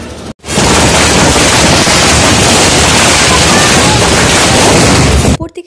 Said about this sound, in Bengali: আর প্রচুর বাজি ফাটানো হচ্ছিল।